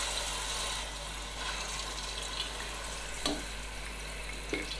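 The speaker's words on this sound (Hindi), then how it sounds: "अब इसी ऑयल में हम लहसुन का पेस्ट डालेंगे।" Garlic paste fries in oil for a spicy biryani, giving a steady low sizzle with a couple of sharp scraping stirs near the end and no talking.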